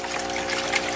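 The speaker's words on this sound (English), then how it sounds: "my tub, which has a recirculating little small pond pump right here that pumps the water right back up" A small recirculating pond pump sends water back up to a gold-recovery sluice, producing a steady, close trickling and splashing stream with a low mechanical hum underneath.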